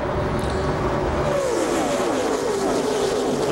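Pack of stock race cars roaring through the opening laps of the 2007 ARCA 200 at Daytona, a steady dense engine drone with a passing pitch sweep, loud and continuous.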